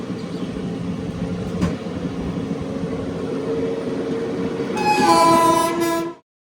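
Trivandrum to Chennai passenger train running along the rails, a loud continuous rumble and clatter with a brief knock, then a strong horn blast near the end before the sound cuts off.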